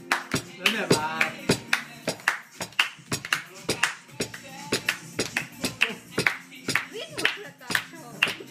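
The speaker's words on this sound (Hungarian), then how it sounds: "Ritmusra tapsol!" A group keeping time with rhythmic clapping at a birthday party, crisp regular claps close by and continuing without a break, with voices talking and exclaiming over the beat.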